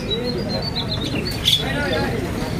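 Australian parakeets chirp in a busy bird shop, with faint high tweets running throughout over a steady crowd murmur, plus one brighter call near the middle.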